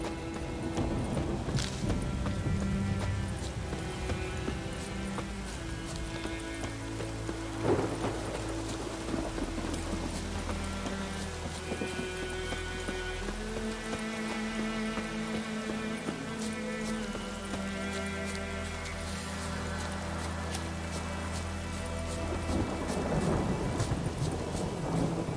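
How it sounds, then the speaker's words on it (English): A thunderstorm with rain in The Witcher Wild Hunt, with a steady wash of rain and low rumbling thunder, plus hoofbeats clopping and layered game music over the whole stretch. "A storm, damn it."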